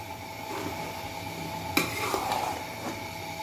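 Rice gets stirred and mixed in a pot as soft scraping and clinking against the metal sit over a steady low sizzle, with one sharper knock partway through; no one speaks.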